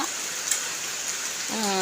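Steady rain hisses in the background, with a voice briefly starting to speak near the end.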